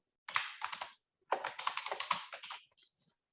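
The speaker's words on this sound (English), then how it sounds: "And I'm just typing" Rapid clatter of computer keyboard keys in two bursts of typing, close and fairly quiet, with brief pauses between runs of keystrokes and no talking.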